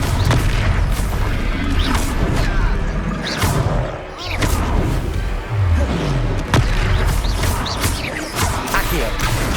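Confringo fire blast spell cast in Hogwarts Legacy, a booming explosive burst within dense, continuous combat noise, loud and close, while a character shouts over the action.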